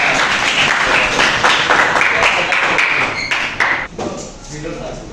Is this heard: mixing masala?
no